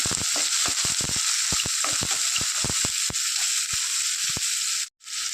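Chopped green chili and chili powder are stirred into a sizzling mixture in a pan, a steady hiss of frying broken by repeated sharp scraping strokes of the spoon, close up, with a brief pause near the end.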